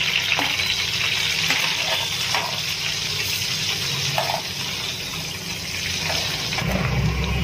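Loud, dense sizzle of a small chopped onion and large curry leaves frying in oil for egg pulusu, with steady crackling and occasional stirring scrapes, close and continuous.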